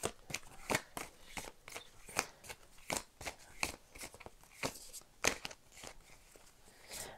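Tarot-style cards shuffled by hand for a romance reading, a steady run of crisp, close riffling flicks and soft slaps with no talking.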